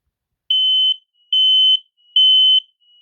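Three loud, piercing electronic beeps in a steady rhythm, each lasting about half a second, from a nearby combined smoke and carbon monoxide alarm being tested with its button.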